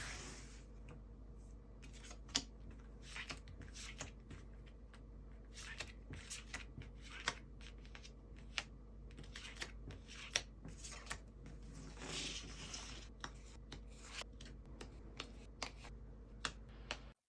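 Tarot cards are shuffled and handled in a quiet room, giving soft riffling and sharp, irregular flicks and taps close to the microphone, with no talking.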